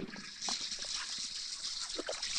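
Hot water running and splashing from a leaking fixture, a steady hiss of flow with scattered splatters, close by, with brief voice sounds mixed in.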